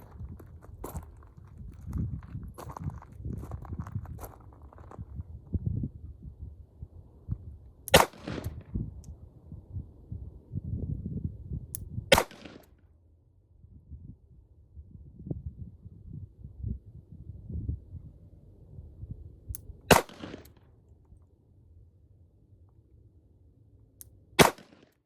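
Lightweight Colt Agent .38 Special snub nose revolver fired at a range: four sharp, loud single shots spaced several seconds apart, with low rustling handling noise and footsteps between them.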